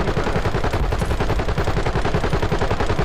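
Continuous rapid gunfire in Call of Duty Warzone, loud dense automatic shots rattling steadily for the whole stretch with no pause.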